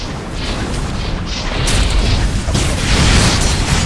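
An obelisk blows apart in the Dragons and Titans video game, a loud sustained booming blast with crashing, rumbling debris that swells again toward the end.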